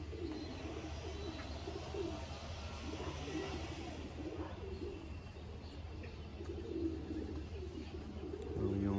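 Pigeons or doves in a loft coo softly and intermittently at a distance over a low steady background hum, with no talking.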